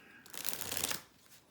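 A slightly warped, used deck of playing cards shuffled once, a quick close riffle lasting under a second, soft and alone.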